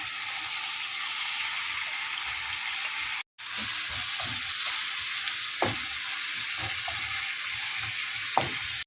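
Onion, garlic and chili frying with beef for a beef and okra dish, giving a loud, steady, close sizzle with scattered stirring clacks and a momentary break partway through.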